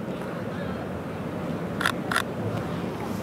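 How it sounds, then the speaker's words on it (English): A Sony A7R III mirrorless camera shutter fires twice in quick succession, two crisp, short clicks standing out over steady outdoor city background noise near Marina Bay Sands. "You can hear the shutter sound is a little bit different too."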